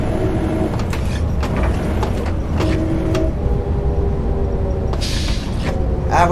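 Simulated Coachbus 256 coach from OMSI 2 drives with a steady, loud low engine drone throughout, brief tonal whines rising and shifting, and a few short clicks and a hiss near the end.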